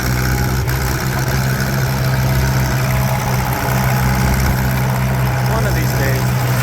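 Farmall 504 tractor engine idling in a hay field with its throttle in need of repair, a steady loud low rumble with constant vibration throughout and no pauses.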